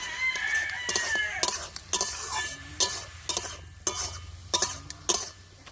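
Red amaranth greens with chopped chillies are stir-fried in a pan, giving repeated rhythmic scraping and stirring strokes over a soft sizzle, with a rooster crowing faintly in the background.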